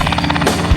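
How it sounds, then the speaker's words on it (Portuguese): Helicopter flying out to an offshore pre-salt oil production platform, a loud, close rotor thump pulsing rapidly throughout. "Para chegar e sair daqui, só de helicóptero."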